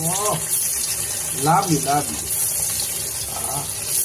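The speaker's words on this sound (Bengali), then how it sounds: "তেলটা গরম হয়ে গেছে, মাছগুলো একে একে ছেড়ে দেবো।" Pieces of katla fish fry in hot mustard oil on a gas stove with a steady, hissing sizzle, while someone talks intermittently over it.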